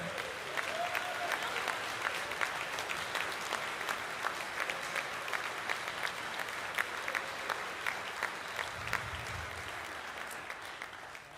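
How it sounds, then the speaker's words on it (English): Sustained audience applause fills a concert hall at an all-state band concert as music teachers stand to be recognized, a thick, even wash of many clapping hands lasting throughout with no talk over it. "would you stand up and we'll give you a round of applause?"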